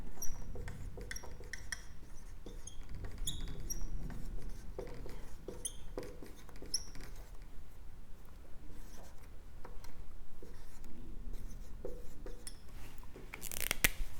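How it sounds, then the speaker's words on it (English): Pen or marker writing on a board during a live Spanish lesson, a steady run of soft scratchy strokes and small taps, close and continuous with no talk over it. "I'm just going to write them here."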